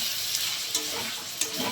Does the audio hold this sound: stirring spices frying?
yes